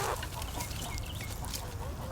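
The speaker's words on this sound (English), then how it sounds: "This is kind of the scene in almost all of the chicken yard right now." Hens cluck in a chicken yard, a soft, steady murmur of scattered clucks heard at a moderate distance with no talking.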